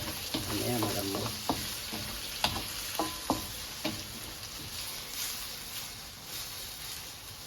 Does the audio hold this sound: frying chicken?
yes